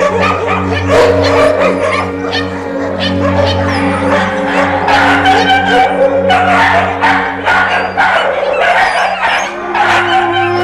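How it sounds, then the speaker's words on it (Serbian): A crowded dog pound rings with many dogs packed into cages barking, yipping and whining nonstop, loud and close, the overlapping barks forming a continuous din over a low steady hum. "Čujte samo kako psi protestuju što su ovde"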